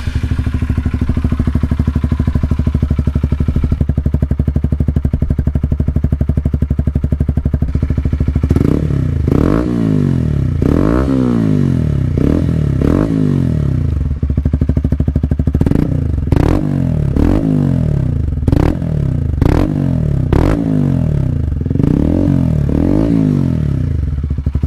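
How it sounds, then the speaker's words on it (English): A Honda CBR 125 R motorcycle with a Black Widow exhaust, dB killer removed, idles loudly, then revs sharply several times in quick bursts, each rev rising and falling back to a rough idle. "I'm gonna show you what it sounds like if the dB killer is not in the exhaust."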